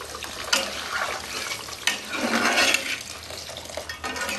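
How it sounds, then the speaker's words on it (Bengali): Hot water poured into a pan of frying potato and eggplant curry, a bright, hissing splash and bubbling rush with a few clinks of utensils, close and fairly loud. "আমি একবার একটু গরম জল দেবো"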